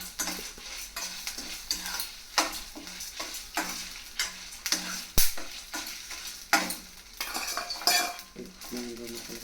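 Mango pieces stir-fried in a little oil in a pan for mango karampodi: soft sizzling under repeated scraping strokes of a spoon against the metal pan, close and irregular, with occasional sharper clinks.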